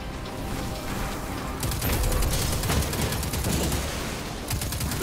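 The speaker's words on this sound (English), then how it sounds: "God, I love this auto rifle." Rapid sustained auto rifle fire in Destiny 2, a dense stream of close, loud shots in quick rhythm lasting several seconds after a quieter start, tapering at the end, with no talking.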